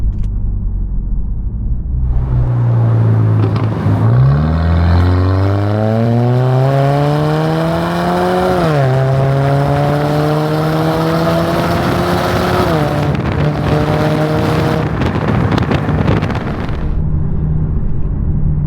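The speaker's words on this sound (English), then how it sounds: "it's a 2-liter 4-cylinder turbo, so it doesn't provide the best results with power, but it is still fun to drive" A car with a 2-liter four-cylinder turbo engine drives past close by, its engine note loud and rising through several gear changes, with a steady rumbling drone underneath and no talking.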